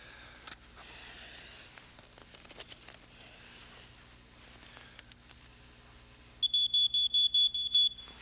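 A smoke detector sounds a rapid series of loud, evenly spaced electronic beeps near the end, after several seconds of quiet indoor background with faint rustles.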